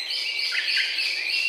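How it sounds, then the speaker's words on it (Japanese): Brown-eared bulbul calling in the wild, a single sustained shrill, high-pitched note that rises and wavers slightly, close and clear with no other sounds. "今ピーピーピーって鳴いたのがヒヨドリですね"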